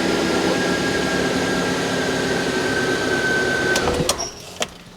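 Petrol 1.3 engine of a 2005 Suzuki Jimny idling just after an oil and filter change, a steady close whirring drone with a high whine that ends in a few clicks near the end.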